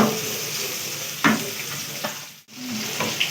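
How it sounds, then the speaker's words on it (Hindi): Garlic and ginger fry with onion in a pan for a stuffed karela dish, giving a steady close sizzle broken by a few scraping stirs of a spoon. "थोड़ी सी प्याज जो है इसको घुल जाए, जैसे थोड़ा सा फ्राई करेंगे लहसुन अदरक को।"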